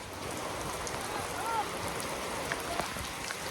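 Heavy rain pours onto a cotton field in a steady, dense hiss of drops. It continues unbroken throughout, with a few sharper splashes close by.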